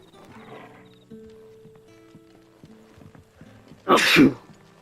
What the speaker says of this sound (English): Man, that sneeze made me lose